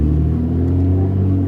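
A tuned 2004 Mustang engine rumbles at idle, a deep, steady low throb with a slight swell, close and continuous with no voices over it.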